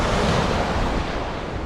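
Ocean waves wash up on Navarre Beach, Florida, at night, a loud, dense rush of surf that stays close and steady throughout.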